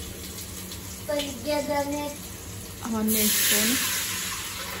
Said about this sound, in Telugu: ఫస్ట్ అయితే వాటర్ పోతున్నాయి